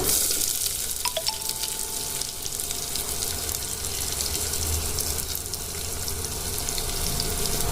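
Chopped onions fry in a pan for egg biryani, giving off a steady, even sizzle that runs the whole time, with a couple of light metallic clinks early on.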